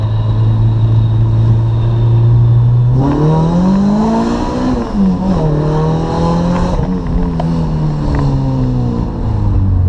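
A Honda Accord with a K24 engine, AC and power steering deleted, idles steadily and is then revved to about 3,500 RPM. The pitch climbs, wavers and holds loud and close for several seconds, with no talking.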